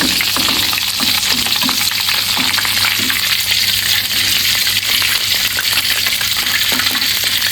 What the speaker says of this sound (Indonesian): kita lanjut menggoreng teri